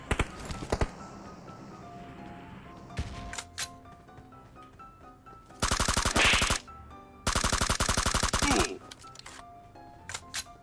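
Automatic gunfire in PUBG Mobile: a few early shots, then two long, loud sustained bursts of rapid fire, with brief voices in between.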